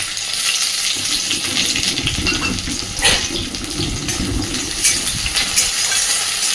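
Black cumin seeds, chopped onion and slit green chillies frying in hot oil, a steady close sizzle and crackle throughout with small pops and clinks of stirring.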